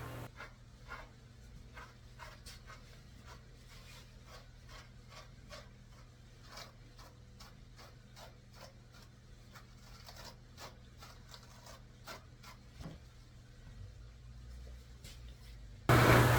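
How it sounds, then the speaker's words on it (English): An undercoat rake grooms a golden retriever's thick tail with soft, faint, repeated scraping strokes through dense fur, steady and close, in otherwise quiet surroundings with no talking. "And I'm using the undercoat rake again on his tail."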